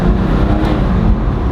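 A BMW M2 fitted with an M4 engine drives along, a loud, steady low engine drone and road rumble filling the cabin, with no voices.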